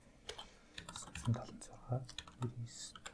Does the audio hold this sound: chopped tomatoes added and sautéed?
no